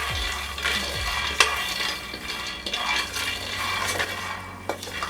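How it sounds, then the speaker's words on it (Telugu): Nut pieces frying in a heated pan for an egg masala curry, with sizzling and a few clinks and scrapes of stirring, close and moderately loud, no voices. "ఇప్పుడు దీంట్లో మనం పలుకులు వేయించుకొని పలుకులు వేసుకొని"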